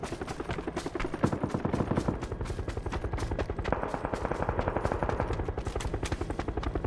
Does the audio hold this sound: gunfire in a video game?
yes